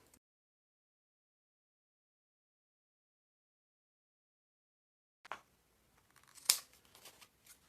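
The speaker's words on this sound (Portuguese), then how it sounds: "aqui eu já corto o excesso de viés que eu deixei maior" Scissors snip off excess bias tape on a sewing project after a long silence, with a short cut, a sharper snip and a few faint rustles, all quiet and near.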